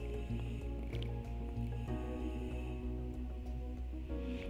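Paneer is stir-fried in spiced masala in a kadhai over high heat, giving soft, quiet wet squishing and sizzling that continues throughout, with no talk.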